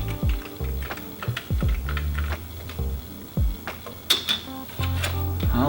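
Keys on a vintage Amiga computer keyboard clack close by in irregular bursts of presses, some single and some in quick runs, with no voices.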